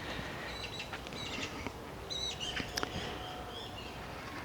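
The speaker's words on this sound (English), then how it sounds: "I'm hearing a lot of bird song and magpies chattering" Birdsong with scattered chirps and chattering calls, magpies among them, in a shady cemetery with conifers and pines in Tamworth, heard at moderate distance over a steady outdoor background hiss.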